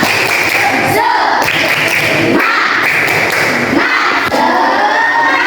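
Schoolchildren in a classroom perform a rhythmic spirit clapping chant, a loud patterned sequence of claps and taps in groups with chanting voices over them.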